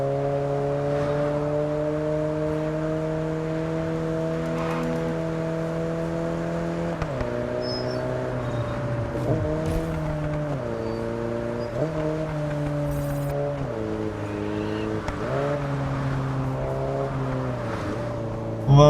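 A car engine in the racing game Test Drive Solar Crown, droning steadily with rising and falling pitch as the virtual car drives and shifts through gears, the tone stepping down at each change, with no voices over it.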